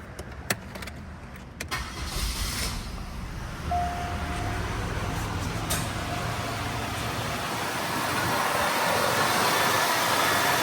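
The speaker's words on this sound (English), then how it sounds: "Let's fire it back up. Restarting the engine." A GM engine with Dexcool coolant is restarted after a few clicks, catching with a brief whine and settling into a loud, steady running roar that builds slightly toward the end.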